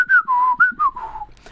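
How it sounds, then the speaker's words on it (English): Someone whistles with the lips, a clear melodic phrase of about five notes with short gaps, loud and close with no other sound. "I can whistle with my lips yet."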